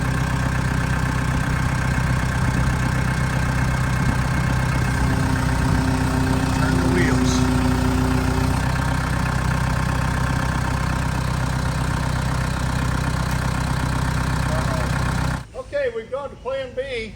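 A tractor engine idles with a steady low rumble while backing up slowly to clear a tree limb off a fence, running continuously before cutting off abruptly near the end.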